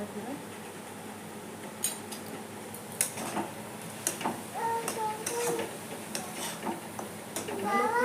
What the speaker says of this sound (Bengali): কিছুক্ষণ নেবো বেশি না হালকা পেঁয়াজটা ভাজবো